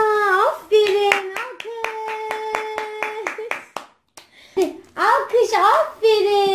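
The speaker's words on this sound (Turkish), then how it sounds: "Alkış. Alkış, aferin." A family at home claps hands in a quick, regular rhythm alongside a child's playful sung or drawn-out vocalising, then a short pause before more voices chime in.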